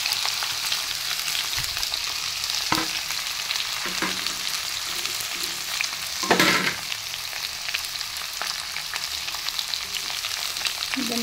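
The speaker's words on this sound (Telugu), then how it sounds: "కొంచెం ఇదంతా ఆయిల్లో బాగా ఫ్రై అవ్వాలన్నమాట." Ivy gourd pieces frying in hot oil in a pan, a steady close sizzle throughout with occasional clinks and scrapes of stirring, no voices.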